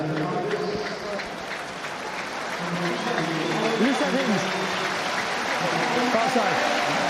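Rugby crowd at a Leicester v Exeter Premiership match applauding Jasper Wiese, a broad steady roar of clapping heard from a distance, with a commentator talking over it throughout.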